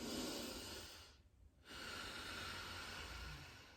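Deep, loud breathing during a breathing exercise, a long noisy exhale, a brief pause, then another strong airy breath, close to the listener with no talking.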